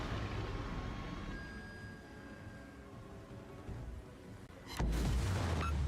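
Torpedoes strike a warship in World of Warships, a deep booming blast arriving abruptly near the end after a low rumbling naval soundscape with faint tones.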